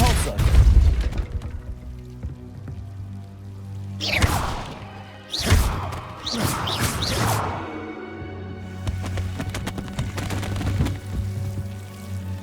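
A Depulso spell cast in the Hogwarts Legacy game, a few forceful whooshing bursts and thuds over a low steady ambient hum, with no talk.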